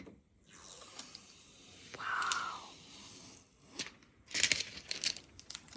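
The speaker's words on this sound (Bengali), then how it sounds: "নতুন জিনিসের স্টিকার তুলতে হেভি মজা লাগে" Protective plastic sticker peeled off a newly bought item, soft crinkling and stretching film sounds close by with a smooth drawn-out peel, then a louder burst of crackly rustling toward the end.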